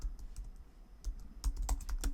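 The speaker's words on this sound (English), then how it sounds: "We just need to type it here, Microsoft Teams download, and hit enter key of our keyboard" Soft clicking keystrokes on a computer keyboard in a Mac setup, typed in an irregular quick patter, quiet and close with no voices.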